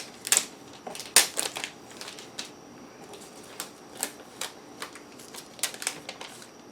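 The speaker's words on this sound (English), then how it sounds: "I'm gonna have to take this nice protective screen cover off" Protective plastic screen cover being peeled off an Echo Show 8 during unboxing, giving a string of soft crinkling, crackling bursts with a few sharper snaps, close and fairly quiet, no talking.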